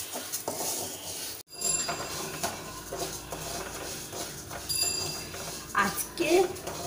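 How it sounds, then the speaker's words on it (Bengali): Moong dal frying and being stirred in a pan, with steady clinks and scrapes of a utensil against metal alongside quiet frying, near and moderately loud throughout, with no speech. "তো এবার মুগ ডালটাকে ভেজে নিচ্ছি"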